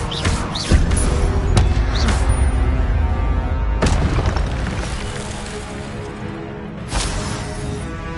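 The Incendio fire spell in the Hogwarts Legacy video game erupts as loud, dense booming bursts, with several sharp attacks recurring over a continuous roaring rumble.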